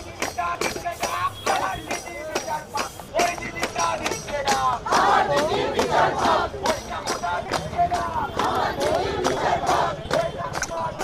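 A large crowd of striking junior doctors shouts protest slogans in rhythmic unison during the Durga Puja festival, loud and close, with steady repeated beats and many overlapping voices.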